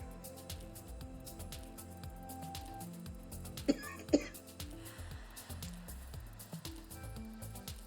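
Two quick, fairly close coughs a moment apart, over a busy background of low hum and scattered clatter.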